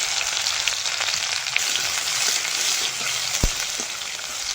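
Chopped onion with five-spice frying in oil, a loud, dense sizzle holding steady throughout with an occasional faint tap of a utensil, heard close with no voices.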